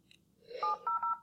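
Telephone keypad tones enter a conference call access code, a quick series of four or five sharp DTMF beeps close up, preceded by a faint prompt fragment.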